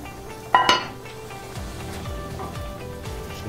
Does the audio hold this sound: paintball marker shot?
no